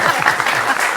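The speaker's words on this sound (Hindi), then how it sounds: "ताली के साथ" Audience applause at a Hindi-language televised debate on national security, steady dense clapping filling the whole second at close range with no pauses.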